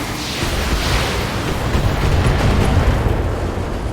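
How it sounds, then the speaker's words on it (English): An AC-5 autocannon unloads in the BattleTech video game, a dense, continuous low rumbling roar of heavy fire and blasts that holds steady and loud throughout with no distinct separate shots. "Here's the AC-5. AC-5 hits really hard."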